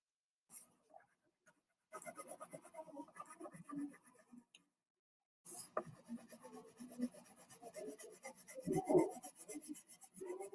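A crayon colouring a drawing on paper, close, dry scratchy rubbing strokes in short bursts separated by pauses, with quiet tapping and rustling in between.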